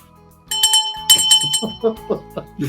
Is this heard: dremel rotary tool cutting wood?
no